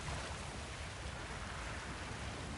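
A waterfall in Star Wars Jedi: Survivor pours with a steady, dense rushing roar that stays constant and even throughout, with no other sounds.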